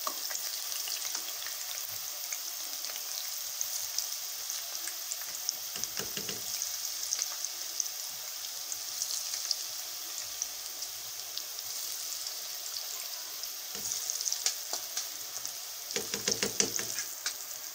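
Cabbage pakoras fry in oil over a medium flame with a continuous close bubbling sizzle and occasional louder crackling bursts, and no voices.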